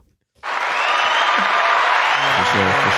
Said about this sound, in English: We gave him a round of applause.